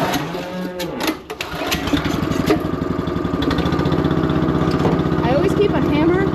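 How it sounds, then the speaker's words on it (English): A 9 horsepower Honda engine on a Ristler bale unroller starts up after a choke adjustment and settles into a steady, close, loud running drone, with livestock mooing near the start. "It's got a 9 horsepower Honda engine on it."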